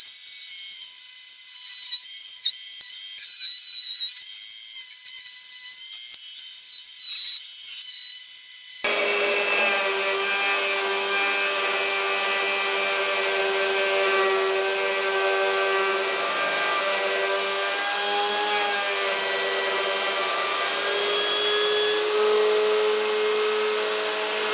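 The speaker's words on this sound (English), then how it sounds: "So this is a Radian 4-flute router cutter." A Radian 4-flute router cutter routing a bass guitar body for a Precision Bass build, a loud steady high whine that jumps into full broadband roar partway through and holds continuously, with no talking.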